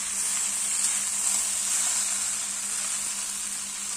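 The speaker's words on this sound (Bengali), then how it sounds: "এখন এই যে চাউমিনগুলো দিয়ে দেবো এর মধ্যে দিয়ে লবণ দিয়ে দেবো দিয়ে এটাকে ভালো করে ফ্রাই করবো" Chowmein stir-frying with salt and soy sauce in a pan, giving a steady, loud sizzle with a constant hiss throughout and no voices.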